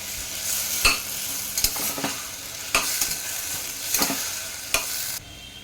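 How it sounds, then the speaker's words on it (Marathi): Green peas and mixed vegetables, with optional soaked peanuts, being stir-fried in a pressure cooker: steady close sizzling broken by several sharp scraping spatula strokes at a loose rhythm, no voices. "छान आता ह्यांना मिक्स करून घेऊयात."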